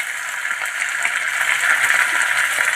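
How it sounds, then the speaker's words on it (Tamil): Drumstick leaves sauté in hot oil with cumin, giving off a steady, close sizzle and crackle with faint stirring, and no voices. "இந்த முருங்கைக்கீரை ஆயிலே நல்லா வதக்கிட்டு"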